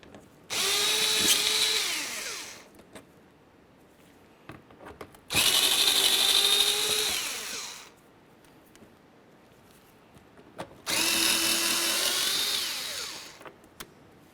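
A power drill or impact tool backs out three 7mm-headed bumper mounting bolts in the wheel well of a 2005-2010 Chevrolet Cobalt, three loud sustained whirring bursts of about two seconds each, separated by quiet pauses with small clicks.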